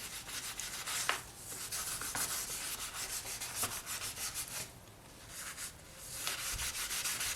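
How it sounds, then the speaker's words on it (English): Polymer clay piece being sanded on the edge and back with 400 grit polishing paper, giving steady close raspy rubbing strokes with a few brief pauses and no talking. "we're going to sand the edge and the back, not the front"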